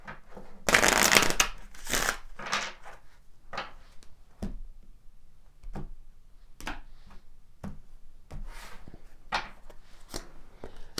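Kipper oracle cards being shuffled by hand, a dense riffling burst near the start followed by intermittent short card flicks and taps, close and fairly quiet with no talking.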